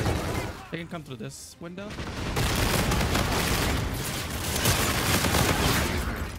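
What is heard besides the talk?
gunfire in the video game Infinite Warfare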